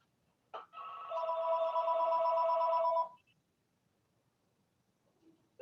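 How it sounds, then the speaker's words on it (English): A telephone rings once with a long, bright electronic trill lasting a couple of seconds, close and loud, in a quiet room with no talk over it. "pardon me while the phone rings"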